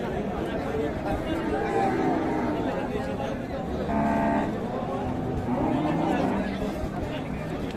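Cattle, including Sahiwal bulls, low at a busy livestock market under a constant hum of crowd chatter. Deep calls rise above the babble in places, especially around the middle.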